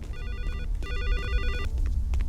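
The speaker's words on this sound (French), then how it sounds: "monsieur De Villepin qui veut vous parler au téléphone" Telephone ringing in Garry's Mod roleplay, a bright electronic double-burst ring repeating twice in quick succession, loud and close with low background rumble and no talk.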